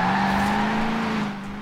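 A car fitted with drift suspension power-slides in Forza Horizon 4: a loud, steady engine drone blends with tire squeal and eases off at the end of the brief slide.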